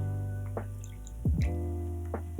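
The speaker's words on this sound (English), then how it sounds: "Then we're gonna add 1 dash of Angosrura bitters" Angostura bitters dashed from a small dasher bottle into a cocktail, a few soft watery drips and plinks over a quiet background, close by, no speech.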